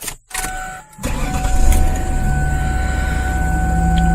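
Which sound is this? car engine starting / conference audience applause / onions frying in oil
car engine starting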